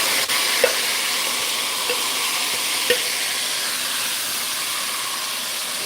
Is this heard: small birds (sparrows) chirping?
no